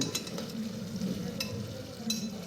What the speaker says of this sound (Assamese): এইখিনি পূৰা ইয়াৰ তেল ওলোৱালৈকে মই ভাজিম